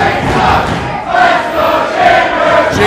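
A loud wrestling crowd at a chain rope match roars and chants in support of Kris Chambers, a steady wall of cheering voices swelling in waves.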